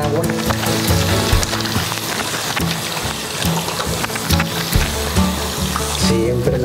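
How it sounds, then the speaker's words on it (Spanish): Tap water runs steadily while hands are rinsed at a sink, a loud continuous splashing rush with brief variations as the hands move through the stream. "Aplicar nuevamente agua."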